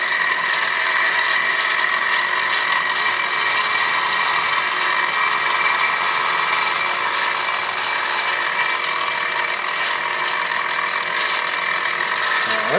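A milling machine plunges into a red block spacer plate for a 383 Chrysler, a steady, loud mechanical whine and grinding hum with high tonal ringing, continuous and unchanging throughout, no talk.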